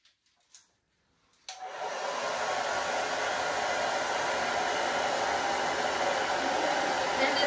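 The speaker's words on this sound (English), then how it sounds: "You've got the dryer." After a few faint clicks, a hair dryer drying watercolor paint switches on and runs with a steady, loud, airy whoosh and high whine for the rest of the clip.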